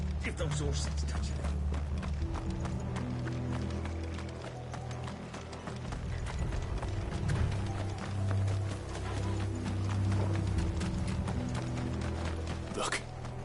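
Horses gallop along with rapid, continuous hoofbeats under a cutscene in Final Fantasy VI, accompanied by steady background music and voices speaking.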